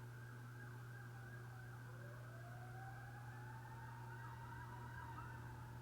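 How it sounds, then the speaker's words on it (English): An ambulance siren passes outside, its wailing tone rising and falling at a distance, faint and muffled indoors over a steady low hum, with no talking. "Ambulance."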